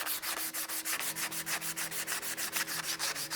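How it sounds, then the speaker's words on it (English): Coarse emery cloth is rubbed back and forth over a swing arm spindle for a ZR2 rear bumper install, a close, steady, rhythmic rasping of about twenty even strokes with no speech. "I just got some coarse emery cloth here, and I'm just gonna sand it kind of down and get it all cleaned up"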